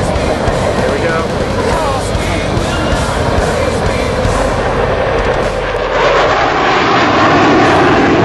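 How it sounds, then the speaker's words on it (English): A jet aircraft roars past with afterburners lit at the Chicago Air & Water Show, a loud, sustained, rumbling blast that swells toward the end while spectators talk nearby. "Got the afterburners on there."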